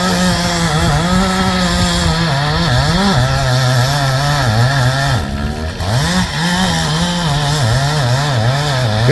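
A steel chainsaw cuts into a big oak tree being felled, its engine snarling loud and close in a continuous high whine that dips briefly midway as it bogs down in the wood.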